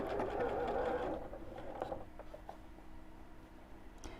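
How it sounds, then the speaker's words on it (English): A sewing machine stitches fabric pieces along the edge, a brief whirring run of the motor at the start that stops, followed by faint mechanical clicks and handling noise. "we'll sew along that edge"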